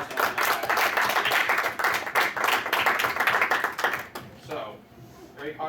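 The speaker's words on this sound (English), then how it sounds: "Give a round of applause to that." Audience applause at an anime convention game show, a dense burst of clapping that holds steady for about four seconds and then thins out and fades near the end.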